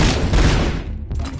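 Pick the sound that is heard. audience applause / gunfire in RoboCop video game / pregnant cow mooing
gunfire in RoboCop video game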